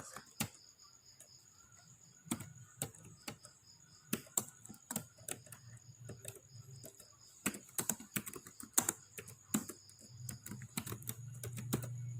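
Keys clatter on a computer keyboard during network configuration work, with irregular bursts of close, crisp clicks and short pauses in a quiet room.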